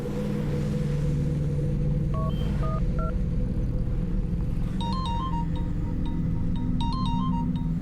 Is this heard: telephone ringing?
yes